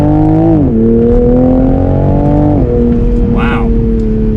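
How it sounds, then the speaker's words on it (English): 2021 Toyota Supra in sport mode, manual, accelerating hard from a standstill in second gear, a loud close engine drone whose pitch climbs steadily with a few dips as revs shift. "So we're gonna do an acceleration from a standstill now."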